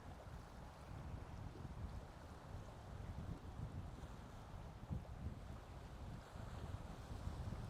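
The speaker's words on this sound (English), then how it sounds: "We've got a bit of a wind coming right up the channel today" Wind blows up the Bristol Channel at Battery Point in a steady, rough gusting roar that buffets the microphone. It sounds close and continuous, with no voices.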